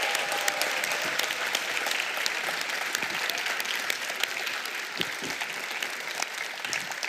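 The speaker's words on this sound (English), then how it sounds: "help me welcome the models on the stage with a big applause" Steady audience applause greets models stepping onto a stage at a fashion and education tech event, many hands clapping evenly throughout with faint crowd noise beneath.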